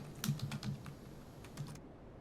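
Quick, light keystrokes on a computer keyboard, a short cluster of clicks followed by a few scattered taps, close and quiet.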